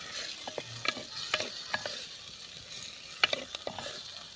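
Tomatoes sauté in a pan for a sesame potato dish, a soft, quiet sizzle broken by scattered scraping and clinking stirs of a spatula, with no voices.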